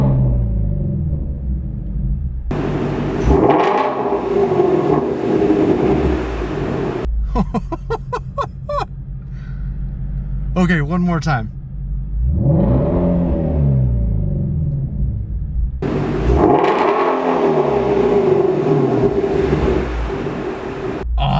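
A 2019 Ford Mustang Shelby GT350 in sport exhaust mode revs loudly in several long, growling sweeps, separated by short bursts of sharp blips, with a brief voice near the middle.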